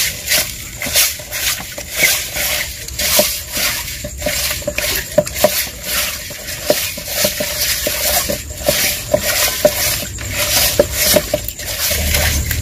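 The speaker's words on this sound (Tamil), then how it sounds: "நாட்டு மீன்னாலே உப்பு மஞ்சத்தூள் போட்டு கழுவுறது நல்லது" Country fish being washed with rock salt and turmeric in a metal vessel, steady clinking and scraping of utensils and hands stirring, continuous and close, no talking.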